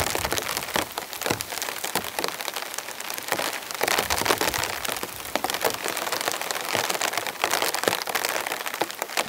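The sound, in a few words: rain and sleet falling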